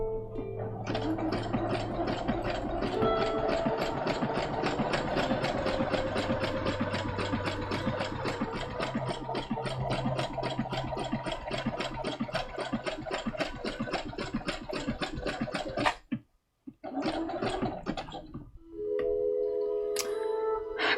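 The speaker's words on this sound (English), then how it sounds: "Regular sewing machines seem so hard to control" A sewing machine runs fast and steadily while stitching a Chongyun cosplay costume, a rapid even mechanical whir that stops abruptly near the end, then resumes briefly in short bursts.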